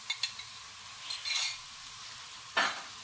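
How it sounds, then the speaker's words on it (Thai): Garlic sizzling with pork in a hot pan for Thai fried rice, a steady soft frying hiss with a few sharp stirring scrapes and clinks, close by and without talk. "ใส่กระเทียมแล้วนะ"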